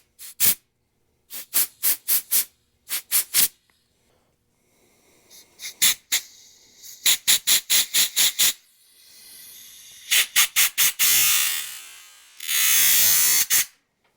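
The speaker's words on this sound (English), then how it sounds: "take some compressed air, blow it through the nozzle to clean out any debris that would be inside of it" Compressed air blasts through a diesel heater's nozzle and fuel lines in many short, sharp hissing bursts, some in rapid clusters, ending in longer sustained blows. The sound is loud and close, and no voices are heard.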